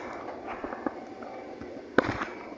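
Fireworks go off at a distance in a city, faint scattered pops and crackles with one sharper bang, over a quiet background.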